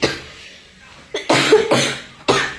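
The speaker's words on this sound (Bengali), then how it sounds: "তরকারি কষানোর সময় তো কাশি আইতাছে কিনা?" A woman coughs during cooking, first a single cough and then a quick burst of three loud, harsh coughs close to the microphone.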